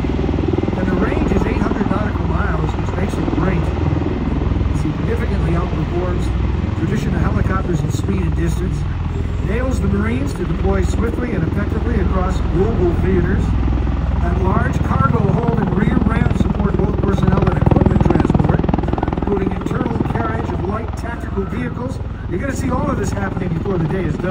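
MV-22 Osprey tiltrotor aircraft flying overhead, a loud, steady rotor and engine roar holding throughout with a slight swell in the middle, while a voice talks over it.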